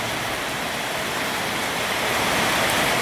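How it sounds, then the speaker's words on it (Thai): Heavy rain pours down at a Thai home after hot weather, a dense, steady broadband roar with no pauses, loud and continuous throughout. "ฝนตกได้แรงมากครับ"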